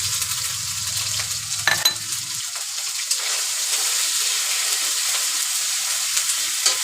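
Fish frying in hot oil as salt and ginger, garlic and cumin paste go in: a steady loud sizzle throughout, with stirring and a brief watery pour near the start.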